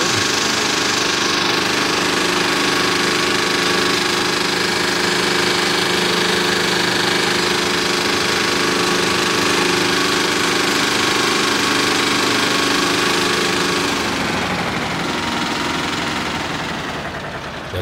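A virtual IMT 509D tractor engine in Farming Simulator 22 idles and runs steadily, a loud, continuous, close diesel drone with a slight knock that eases off near the end.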